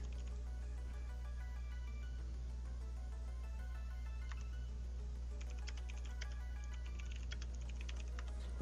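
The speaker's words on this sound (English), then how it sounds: "I like how I can hear you typing while you have the cutscene placed." Steady typing on a computer keyboard, a quick patter of key clicks over a constant low electronic hum.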